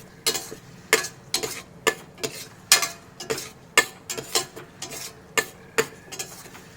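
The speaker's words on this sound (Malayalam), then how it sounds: "ഇനി ഇതെല്ലാം ചേർത്ത് നന്നായിട്ട് ഇളക്കി കൊടുക്കുക." A spoon stirs biryani masala with yogurt in a pot for a South Indian egg biryani, making about a dozen sharp, regular scraping clinks that ring out clearly alone.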